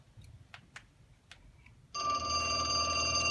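A telephone bell starts ringing suddenly and loudly as one continuous, bright trill, after a few faint clicks and taps in a quiet stage setting.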